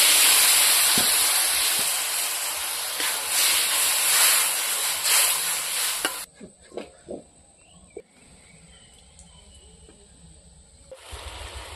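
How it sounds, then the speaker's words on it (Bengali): Egg curry gravy, thinned with water, bubbles in the pot with a loud, steady hiss for about six seconds, then cuts to a much quieter scene of faint simmering, scattered knocks and clatter. "এখন ঝোলটা ফুটে গেছে"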